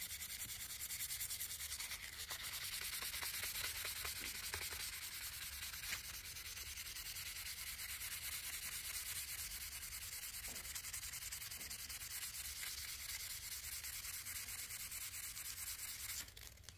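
Fine 600 grit sandpaper rubs steadily across a rusty Randall knife blade, a continuous close scratchy rasp lasting the whole stretch with no talking.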